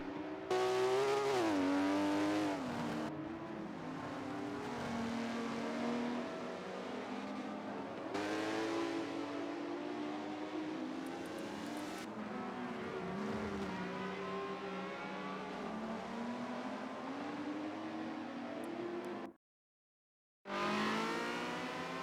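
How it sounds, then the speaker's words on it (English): Loud high-revving Ferrari 360 Challenge Stradale engine in a racing video game, climbing and dropping in pitch through repeated gear shifts, sustained and close, with a brief cut near the end. "Oh, the sound of the 360. The Challenge Stradale."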